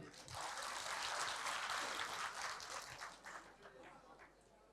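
A crowd at a seminar claps together for expatriate workers, a broad wash of applause that holds strong for a few seconds and then tapers off.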